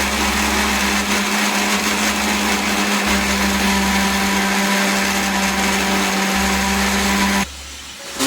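A mixer grinder whirs in a home kitchen during chicken curry preparation, a loud steady motor drone running continuously for about seven seconds before cutting off abruptly near the end.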